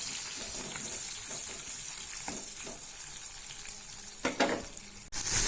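Onion sizzles and fries in hot oil in a pan tempered with dried red chilies, a steady close crackle with occasional stirring scrapes and a louder clatter near the end.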